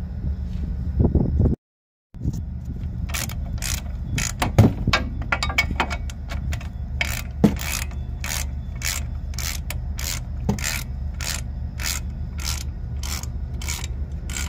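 A ratchet loosening brake caliper bracket bolts on a Chevy Silverado, rapid regular clicking strokes in a long run after some clunks and a brief gap, close and clear.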